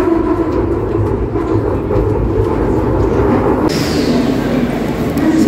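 A rumbling Delhi Metro train rolls into INA station close by, steady and loud, with wheel clatter and a brief hiss of brakes near the end.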